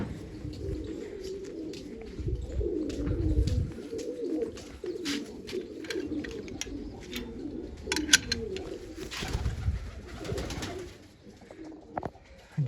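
Pigeons coo steadily in low, throaty murmurs, several birds overlapping close by, with occasional wing flutters and faint chirps in the background.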